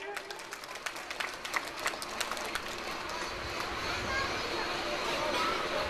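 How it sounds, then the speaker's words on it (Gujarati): An audience at an ashram ceremony applauds to honour guests, scattered claps at first that build into steady applause, with crowd chatter and children's voices around it. "આપણે આ સન્માનને તાળીઓથી વધાવીએ."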